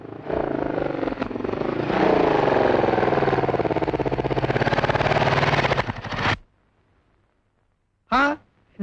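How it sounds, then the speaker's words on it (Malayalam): A motorcycle engine drones and revs loudly for several seconds, then cuts out to near silence before a short voice sound. "ഒരു മോട്ടോർ സൈക്കിളിന്റെ ശബ്ദം."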